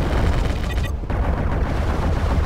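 Missiles firing and exploding in the video game MechWarrior Living Legends: a dense, loud barrage of booming impacts and rumbling blasts, continuous through the clip with a brief dip near the middle, with no talk.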